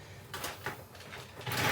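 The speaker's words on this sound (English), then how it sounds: "You do have the sliding glass doors for your showers." The sliding glass shower door of a 2017 KZ Durango 281RLT RV rolls along its track in a few short scraping glides, close by and fairly quiet over a faint background hum.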